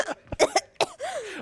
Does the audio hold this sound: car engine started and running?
no